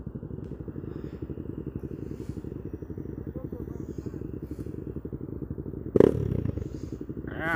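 A supermoto motorcycle idles with a rapid, lumpy exhaust pulse, steady and close, followed by a brief thump and a voice near the end.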